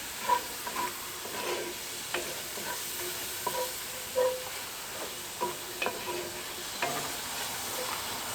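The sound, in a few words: rice toasting in oil in a pan for mushroom risotto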